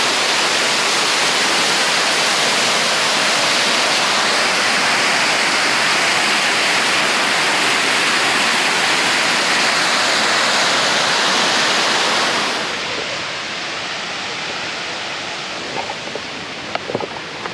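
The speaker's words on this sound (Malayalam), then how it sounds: "ഇതാണ് തുഷാരഗിരി വെള്ളച്ചാട്ടം" Thusharagiri waterfall in Wayanad roars as a steady, loud rush of falling water, then the noise drops sharply and continues more softly near the end, with no talk.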